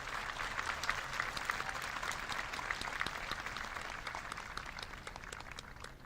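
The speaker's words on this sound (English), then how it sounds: "Let's give all of these honor graduates one more big round of applause." Round of applause for honor graduates at a high school graduation ceremony, steady crowd clapping heard faint and distant throughout.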